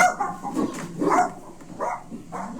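Dogs bark in repeated, fairly loud bursts while a donkey harasses them, the yaps and woofs coming in uneven clusters with short gaps between.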